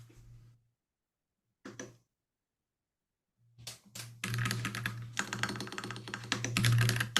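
Computer keyboard typing during an online class: a couple of short isolated bursts of key clicks, then a dense, continuous run of close, rapid keystrokes over a low steady hum.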